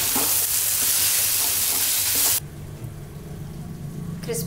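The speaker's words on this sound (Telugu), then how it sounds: "దీన్ని మనం హై ఫ్లేమ్లోని 5 మినిట్స్ పాటు ఫ్రై చేసుకుని" Crispy chicken snack frying in hot oil on a high flame, a loud, steady sizzle that cuts off abruptly partway through, leaving quieter kitchen background with faint clinks.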